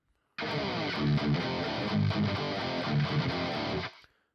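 A heavily driven electric guitar runs through an amp simulator with the gain pushed higher, playing a dense, saturated riff that holds steady for several seconds and then stops sharply.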